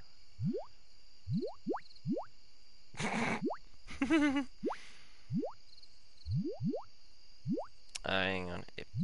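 Slime monsters in Stardew Valley make rising squishy boings and plops, scattered bouncing blips with a few louder splattery bursts, against a soft game background.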